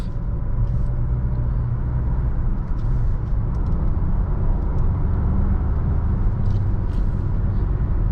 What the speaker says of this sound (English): Throttle is excellent. Just like as soon as you tap it, this car takes off